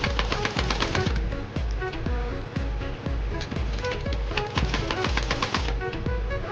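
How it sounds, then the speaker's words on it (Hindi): Sewing machine running continuously as it stitches a ribbon onto the front panel of a kurti, a steady fast mechanical clatter with regular rhythmic ticks throughout, close and fairly loud, with no talking. "अब मैं इस रिबन पर दूसरी साइड से सिलाई करती हूँ।"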